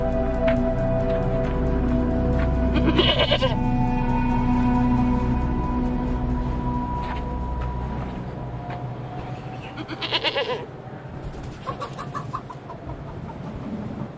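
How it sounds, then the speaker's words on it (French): A goat bleats outdoors in a desert setting in Mali, a couple of short wavering cries heard over steady low background noise, with other farm animal sounds faintly mixed in. "nous vous offrons cette chèvre en signe de respect et d'entente cordiale"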